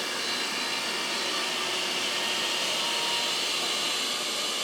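Eufy X10 Pro Omni robot vacuum running at its highest suction setting on carpet, a loud, steady broadband whoosh and whine that holds constant throughout with no talk.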